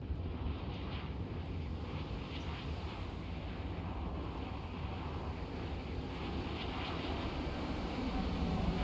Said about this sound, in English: Let's get a flyby.